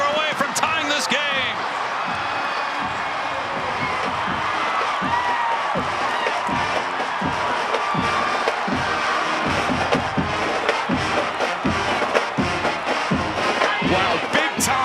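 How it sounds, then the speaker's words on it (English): Large stadium crowd at an Oklahoma State college football game roars and cheers after a touchdown, a sustained dense wall of noise with a commentator talking over it. "this crowd absolutely loving it as they come alive"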